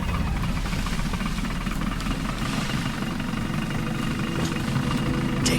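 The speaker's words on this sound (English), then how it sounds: "Start the engine." A military vehicle engine in the Battlefield Bad Company 2 campaign runs as a loud, continuous low idle rumble with steady vibration throughout, no voices over it.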